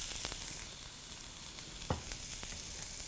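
Ginger sizzling in hot coconut oil in a pan, a steady hiss and crackle of frying close by with a few brief stirring scrapes, no talk.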